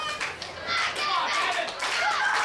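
A wrestling crowd claps steadily through the whole stretch at an ESW match in Salamanca, the dense patter rising and falling with scattered voices and shouts mixed in.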